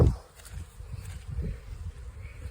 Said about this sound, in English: you can see that there's bees in every one of them